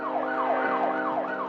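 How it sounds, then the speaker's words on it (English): Loud wailing siren sweeping up and down in quick repeated cycles, close by. "threw on the lights and siren"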